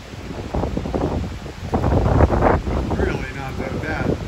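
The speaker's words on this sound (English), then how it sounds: "It's windy out there. You can hear the gusts." Gusty wind from a category 5 cyclone in Fiji buffets the microphone at a sheltered sailboat anchorage, rising and falling in loud roaring swells. A voice is faintly heard beneath it.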